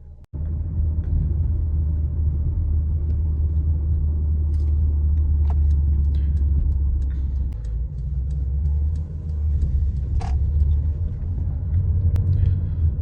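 Mercedes-Benz GLB200 4MATIC AMG with a 1.33-litre 163 hp engine, driven on the road in comfort mode, heard from inside the cabin as a loud, continuous low road and engine rumble with faint rattles.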